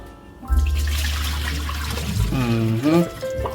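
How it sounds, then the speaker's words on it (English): Water from rinsing cow foot meat soaked in lime juice and vinegar is poured off in the kitchen, a loud close splashing gush lasting a couple of seconds, followed by a brief voice. "I'm gonna throw the water off."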